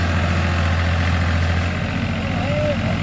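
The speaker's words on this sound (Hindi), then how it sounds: "फंस गया ट्रैक्टर" A Farmtrac 45 tractor, stuck in place, idles with a steady low engine rumble that stays close and even throughout, with voices talking over it.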